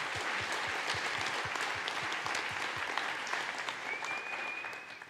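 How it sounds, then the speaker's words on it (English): Audience clapping at a JavaScript conference after a talk on engineering leadership, a dense, steady round of applause held at full strength throughout with no voices over it. "Let's give a round of applause"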